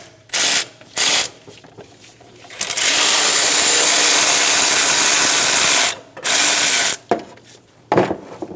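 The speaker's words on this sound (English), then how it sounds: "Use a 15mm socket and remove the last bolt for our power steering pump." Ratchet wrench with a 15mm socket loosening a power steering pump bolt on a 4.8L V8 Chevrolet Express 2500 van: two short bursts of close, loud clicking, a long sustained ratcheting run, then more brief bursts.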